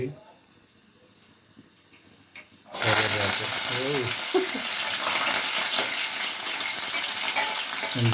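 Onion, curry leaves and dried chillies hit a hot pan for a bitter gourd and flattened rice dal, bursting into a loud sizzle about a third of the way in and crackling steadily afterward.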